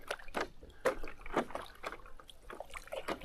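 Paddle strokes dip and pull through lake water from a paddleboard, as soft rhythmic splashes and trickles at roughly half-second intervals, close by and quiet with no talking.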